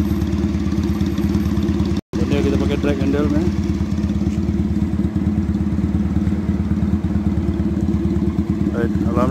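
A custom Regal Raptor motorcycle with a modified exhaust idles close by, a loud steady low rapid thumping that runs throughout while someone talks over it in Malay.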